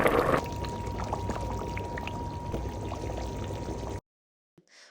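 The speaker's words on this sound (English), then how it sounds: "mix 1 cup of Tuo Zaafi flour into 2 cups of water and pour it into hot water on the fire while stirring" Tuo zaafi flour mixed with water being poured into a pot of hot water on the fire, a steady close liquid pour that runs for about four seconds and then cuts off abruptly into silence.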